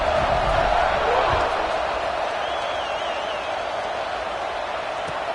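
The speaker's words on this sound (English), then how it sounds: "this crowd is buzzing after that last score" A stadium crowd buzzes loudly and steadily at a UCLA college football game after a score. The broad roar stays continuous throughout, with an announcer talking over it.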